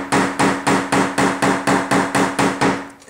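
Ten even, ringing hammer taps strike a weld on the lower door skin of a 1997 Chevy truck, loud and close, in a steady rhythm about three per second, with no voices.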